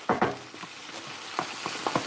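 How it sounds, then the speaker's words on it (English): Onions fry in a kitchen pan, giving a soft steady sizzle with a few louder stirring scrapes and clatters near the start and later, fairly close and quiet, with no talking. "The sound of the sizzling onions."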